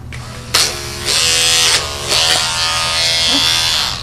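Electric dog clippers fitted with a 7 finishing blade buzz steadily while grooming a wire fox terrier, a loud close hum that swells and dips as the blade moves through the coat.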